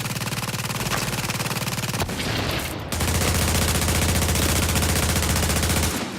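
Rapid automatic gunfire aimed at a boss in the video game The Division, loud and continuous bursts of dense shots with a brief break midway, no talking over it.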